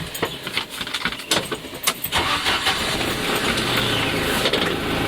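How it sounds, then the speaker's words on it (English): A Jeep Wrangler YJ with a straight-four engine and an exhaust leak is started up, with keys jangling and the starter cranking before the engine catches and settles into a loud, raspy idle. "This Jeep does have an exhaust leak somewhere, which doesn't make it sound very good."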